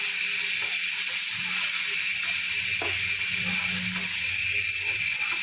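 Chicken cooking in a pan with coconut milk gives off a steady, even hiss and sizzle that runs unbroken throughout, with faint low clatter of stirring underneath.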